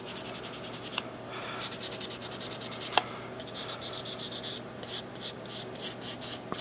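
Steady back-and-forth rubbing of 500 grit sandpaper breaking the sharp corners of a machined EDM part, a close, continuous rasp in short rhythmic strokes, with no talking.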